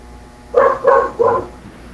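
A dog barks three times in quick succession, fairly close, over a quiet background hum.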